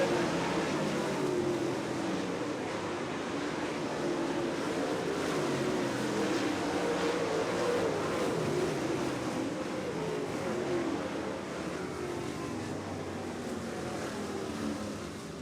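Dirt track race cars roaring toward the finish line in a close drag race at a Dirt Kings and Grand National/B-Mod championship night, a continuous dense engine drone heard at a distance, steady and loud throughout.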